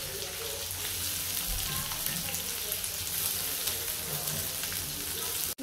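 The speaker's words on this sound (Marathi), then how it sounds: "कांदा परतून घेते" Onion sautéing in a hot pan, a dense, even crackling sizzle that holds steady and close throughout before cutting off abruptly at the end.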